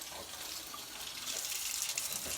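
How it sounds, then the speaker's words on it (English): Fairly hot tap water runs steadily into a sink for a glove wash, a close, hissing splash that gets a little louder and fuller partway through, with no voices. "I'm going to use fairly hot water."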